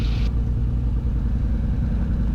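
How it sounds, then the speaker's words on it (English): Twin-engine Cessna airplane taxiing toward the runway, a steady low engine drone with a throbbing, pulsing rhythm, heard close from inside, with no voices. "Twin Cessna 771 Bravo Charlie is taxiing runway 20 for departure"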